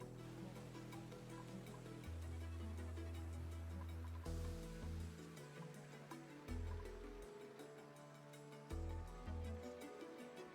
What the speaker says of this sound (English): We could spill out all the water.